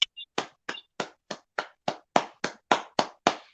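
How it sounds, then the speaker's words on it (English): A single person claps hands about a dozen times at a steady, moderate pace, each sharp clap close and distinct with brief silence between, no talking over it. "I'm clapping because that's real."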